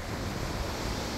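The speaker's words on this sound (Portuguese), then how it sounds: "E aqui eu apresento para vocês o mar." Sea waves wash along the Santa Catarina coast in strong wind, a steady, loud roar of surf and gusting air with no voices.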